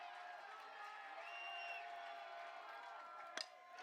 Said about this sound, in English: Crowd into it.